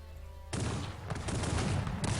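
A sudden burst of dense, rapid gunfire erupts after a brief quiet moment, loud and continuous like a battle fusillade, in the strategy game Cossacks 3.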